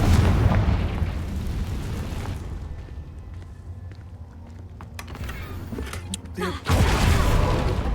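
Confringo fire spell blasts in the Hogwarts Legacy video game: a loud booming explosion with a crackling roar that fades into a quieter rumble, then a second heavy blast near the end.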